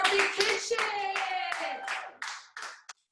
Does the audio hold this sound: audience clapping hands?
yes